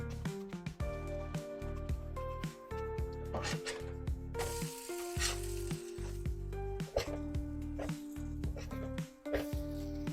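Vegetable cakes fry in oil in a pan with a continuous bright sizzle, heard under steady background music with some tonal notes throughout.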